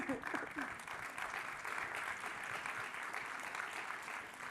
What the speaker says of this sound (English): And for all of you, applaud for her.